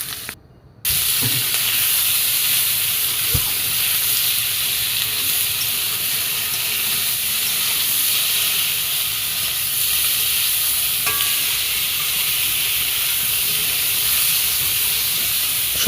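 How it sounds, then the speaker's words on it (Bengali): Potato and eggplant pieces, seasoned with salt and turmeric, fry in hot oil as a curry base for pabda fish, giving a steady loud sizzle and hiss with occasional stirring clinks throughout, no voices. "দিয়ে এখন আমি ভালো করে ভেজে নেব"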